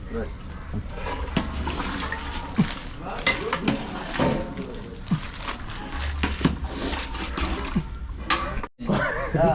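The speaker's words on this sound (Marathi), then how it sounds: "देवेंद्र परफेक्टली परफेक्टली एक नंबर मिक्स हो, मीठ टाकणार आहेत" Agri-style mutton stirred as it fries in a pan, with steady scraping and sizzling under continuous talk, brief clatters of the spoon scattered throughout and a short drop near the end.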